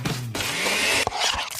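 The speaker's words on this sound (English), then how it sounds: "That's the sound of a smoothie bowl being made fresh," A blender whirs loudly for under a second while making a Smoothie King smoothie bowl with sliced bananas, berries, mangoes, granola and a peanut butter drizzle, then stops, followed by brief knocks and clatter.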